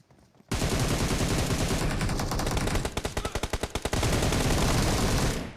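Rapid automatic gunfire from BGMI (PUBG Mobile) gameplay, a dense sustained burst followed by a run of distinct individual shots and then another continuous volley, loud and close with no talk.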